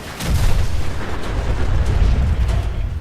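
A sentry bot in Fallout 4 blows up in a heavy, rumbling blast that rolls on as a dense, loud roar for several seconds, with no talk over it.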